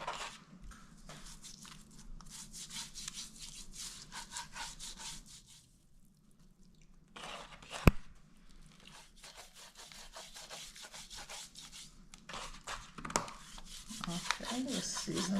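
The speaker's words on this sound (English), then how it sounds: "let's season the fish, rub it in" Hands rubbing seasoning into fish for a brown stew, a steady close scraping and rubbing texture that runs almost continuously, pausing briefly in the middle before resuming.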